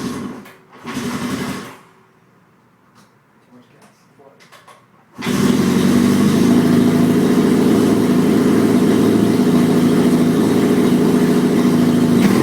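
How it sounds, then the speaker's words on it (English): A vintage motorcycle found in a barn starts on the first kick and settles into a loud, steady idle that runs unbroken after a brief quiet stretch with faint handling noises. "So anyway, I get the bike running."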